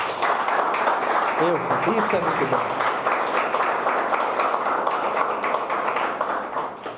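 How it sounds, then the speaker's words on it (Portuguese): A church congregation applauding, steady broadband clapping running throughout with a voice speaking briefly over it early on. "eu quero que você aplaude o Senhor por essa palavra"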